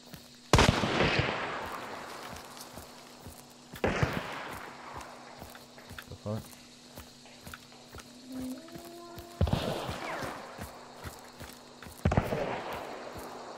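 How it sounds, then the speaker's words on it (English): Enemy gunfire in the video game Hunt: Showdown, with four sharp, loud shots spaced a few seconds apart. A low mechanical hum and quieter in-game noises sit between the shots. "What are they shooting at? Me."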